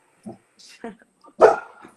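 Dog barking indoors, a few short yips and one louder bark close by, with a person's voice mixed in around them.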